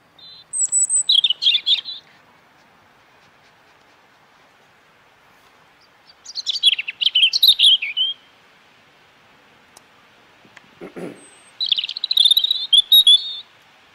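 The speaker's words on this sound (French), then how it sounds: "Mon petit rouge-gorge derrière les fagots" A European robin sings in bright, high trilling phrases separated by pauses of quiet, close and clear, with a soft low rustle in between.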